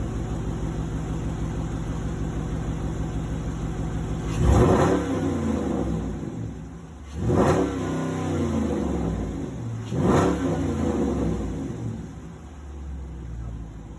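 A Dodge Challenger R/T Hemi V8 with a K&N cold air intake idles with a deep rumble, then revs sharply three times, each roar dropping back to idle, close and loud.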